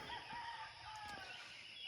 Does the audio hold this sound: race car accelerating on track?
no